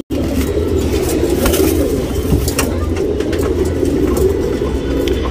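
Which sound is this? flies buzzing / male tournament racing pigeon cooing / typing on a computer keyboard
male tournament racing pigeon cooing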